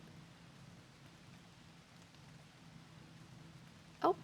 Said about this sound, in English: It wasn't raining like it is now when I made the drop-off.